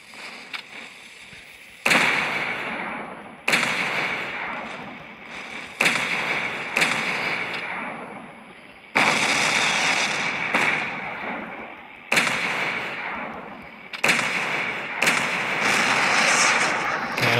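Heavy battlecruiser main guns firing during a naval battle in a World War battleship game, loud booming salvos about every one to two seconds, each blast followed by a long rumbling decay.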